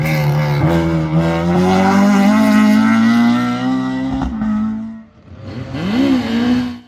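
A 2-litre Type R engined Honda Civic rally car on a rally stage screams at high revs through rising gear pulls, loud and close, then drops briefly before revving up again.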